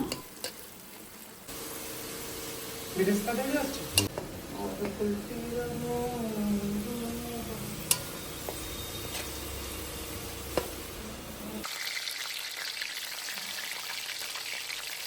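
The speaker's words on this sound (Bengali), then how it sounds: "বাপিদা পেঁয়াজগুলোকে ভেজে নিচ্ছে বেরেস্তার জন্য" Onions frying for mutton biryani beresta, a soft, continuous sizzle with a person talking over much of it and a few sharp knocks and clicks.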